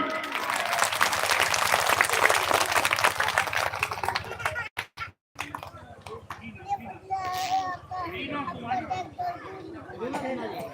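A crowd at a religious gathering and student felicitation applauds loudly for several seconds while children chatter. After a brief break, scattered voices and talking take over.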